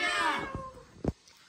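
A person imitates a cat meowing by a swimming pool, giving a drawn-out wavering meow followed by a short sharp sound, close and moderately loud.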